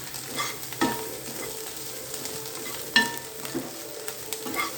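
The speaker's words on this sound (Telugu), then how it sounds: "ఇలా మిక్స్ చేస్తున్నాగా మమ్మీ కొత్తిమీర వేసేస్తుంది" Mum stirring chopped coriander into food in a pan, with a soft steady sizzle, a few scrapes and clinks of the spoon against the pan, and no talking.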